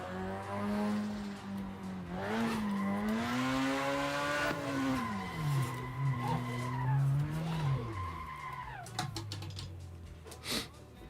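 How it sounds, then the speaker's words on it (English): A car drifting with its tyres skidding, giving a loud sustained squeal that bends up and down in pitch over an engine note, with no one talking. "if my revs start going down, I can just clutch it in, and that'll bring them up enough to where I can keep that drift going"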